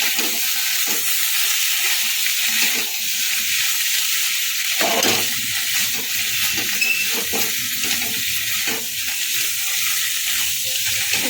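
Potatoes for Pahari dum aloo being stirred and fried in a pan, a steady sizzle running throughout with soft scraping strokes of a spoon, close and fairly loud, with a brief dip in the sizzle midway.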